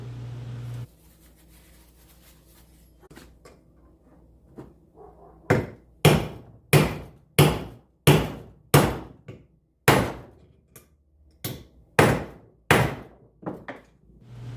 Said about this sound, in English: Now I'll hammer the outer race in.